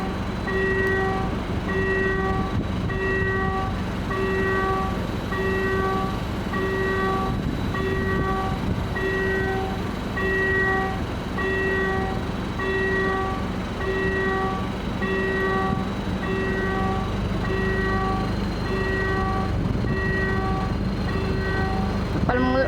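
A diesel locomotive engine roars steadily, its deep rumble and droning harmonics building as it accelerates, loud and close throughout.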